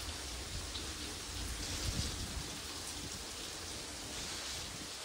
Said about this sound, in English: Been raining like this for an hour.